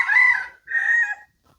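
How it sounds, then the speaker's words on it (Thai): A jungle fowl rooster gives a short, loud, close crow in two strained bursts, with a brief gap between them and quiet afterward. "เป็นไก่ป่าด้วยนะครับ ไม่ใช่ไก่บ้านนะครับ"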